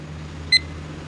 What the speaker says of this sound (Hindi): 10 मिनट का टाइमर लग रहा है स्टार्ट